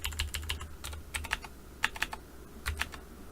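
Fingers type on a computer keyboard in quick, irregular bursts of crisp key clicks, with short pauses between runs. The clicks sound close and fairly quiet against a low background hum, and no one speaks.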